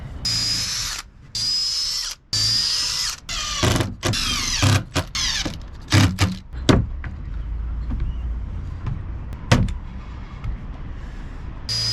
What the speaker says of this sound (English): now we can put some screws in